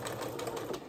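A sewing machine stitches a shirred cuff in a brief, fast, even run of rapid mechanical ticks, quiet and steady with nothing else over it.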